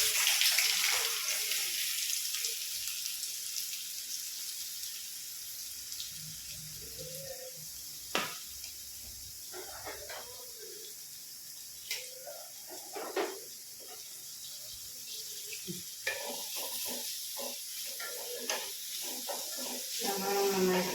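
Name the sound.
onions sizzling in hot oil for beef curry gravy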